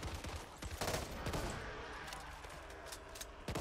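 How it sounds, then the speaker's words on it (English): Gunfire rings out in the zombie shooter Back 4 Blood, several sharp, loud shots in uneven succession with a quick burst early on, set against ambient game noise. "I can headshot him if you want"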